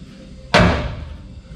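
A single loud, sharp slam of a crew cab truck door whose latches are badly out of adjustment, ringing briefly before fading into quiet background.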